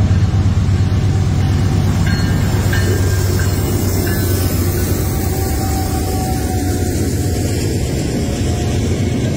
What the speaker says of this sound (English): we got a train coming, so we're gonna see a train cross, pass us by right here